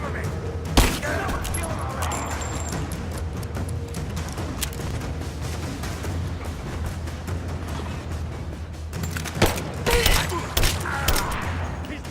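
Gunfire in a firefight at a Soviet installation in the video game Rise of the Tomb Raider: sharp shots and bursts with booming impacts over a dense rumbling backdrop, while voices shout orders.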